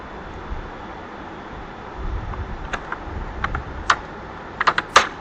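Computer keys are tapped in short irregular bursts at a computer institute, faint at first and growing into quick clustered clicks near the end over a low background hum.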